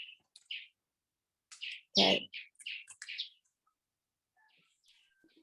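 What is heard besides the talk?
birds chirping in the background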